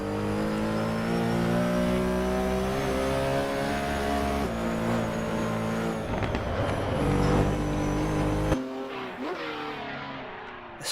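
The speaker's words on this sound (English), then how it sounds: "The sound of this car from the outside." A race car in the Assetto Corsa Competizione racing sim screams through the gears from an outside view, engine rising and falling with shifts before the sound drops away near the end.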